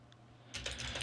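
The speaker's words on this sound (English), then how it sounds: "I'll just hit M on the keyboard" Quick keystrokes on a computer keyboard during video editing, a soft burst of rapid clicks starting after a quiet moment, faint and close.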